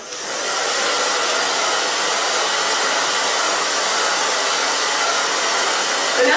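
A hair dryer blowing freshly cut bangs dry, a loud, steady, close airy roar that starts up quickly and holds constant throughout with no talking.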